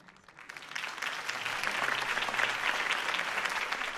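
Crowd applause in the Telltale Batman video game, a steady wash of clapping that swells in after a brief quiet start and holds loud and dense to the end.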